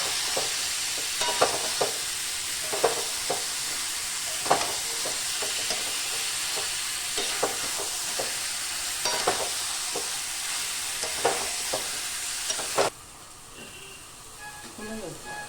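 Boiled potato for a kochuri filling fries in a pan under a steady hiss, with repeated regular scraping strokes of stirring, then the sizzle drops away near the end while someone talks.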